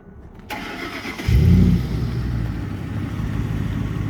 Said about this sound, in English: If I start the truck,